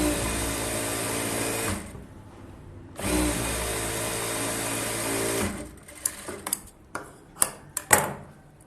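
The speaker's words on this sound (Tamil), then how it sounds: "ஓரத்தில் ஒரு தையல் போட்டுட்டு அப்புறம் 1 இன்ச்சு தள்ளி ஒரு தையல் போட்டுக்கோங்க." Sewing machine stitching a collar-neck blouse, a steady close whir running in two long stretches, followed by a few short clicking bursts and taps.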